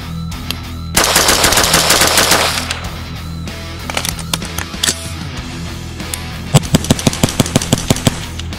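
Rapid semi-automatic gunfire from a Guncraft AR-15 rifle chambered in 22 Magnum, fired outdoors at a range; a dense burst of close, loud shots, then quieter single reports, then a closing string of sharp, evenly spaced shots.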